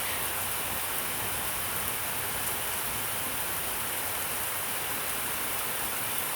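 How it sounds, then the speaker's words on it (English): Heavy rain pouring down during a thunderstorm, a dense, steady hiss with no break, loud and close, with no voices. "rain."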